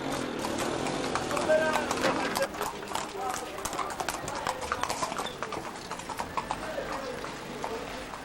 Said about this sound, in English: carefully manoeuvred by Hamid, who knows the narrow streets as well as he knows his horses.